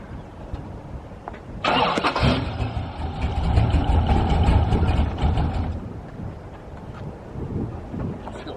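A Chevy engine in a 1969 Camaro cranks and fires up, bursting into a loud, rough rumble that holds for several seconds before easing back toward a lower idle, heard close with some wind noise.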